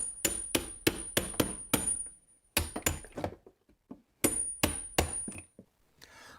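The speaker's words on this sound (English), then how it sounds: "And now I'll just chisel out the top plate." Chisel struck repeatedly with a hammer while cutting out a wooden top plate inside a house wall, a fast burst of sharp close knocks, a pause, a few scattered lighter taps, then another run of blows.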